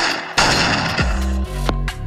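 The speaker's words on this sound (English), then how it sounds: "Yeah, let me get this pellet gun." Pellet gun shots in the Roblox game ERLC, with a single sharp report followed by a short burst of firing and a ringing tail, loud and close, with no talking.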